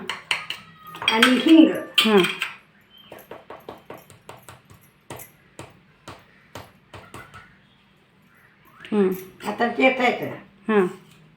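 A metal spoon clinks and scrapes against a pot while chili powder and salt are stirred into food, sharp intermittent taps in quick bursts, with someone talking close by at the start and end.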